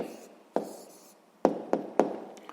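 Pen writing down an answer to a sixth-grade arithmetic exercise, a few sharp taps and short scratchy strokes in quick succession, close and fairly quiet.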